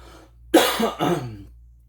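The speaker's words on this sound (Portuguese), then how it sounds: "Desculpa, gente, a tosse está quase no fim." A single person coughs twice in quick succession, close and fairly loud, with no talking.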